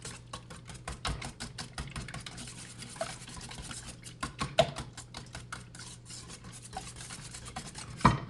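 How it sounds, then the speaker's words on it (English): Eggs are whisked by hand in a bowl in a home kitchen, the quick rhythmic scraping and ticking strokes quiet and close, with a few louder clinks against the bowl. "Whisk up the eggs."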